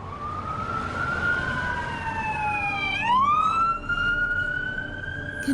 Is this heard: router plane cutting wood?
no